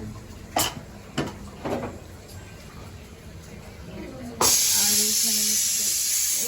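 A pressure cooker cooking meat lets out a loud, sustained steam hiss in the last two seconds, preceded by a few knocks and quiet household sounds.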